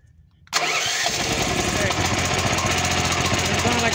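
After a moment of near quiet, a Champion portable generator engine with the choke on catches and runs loudly and steadily with a rough, chugging drone.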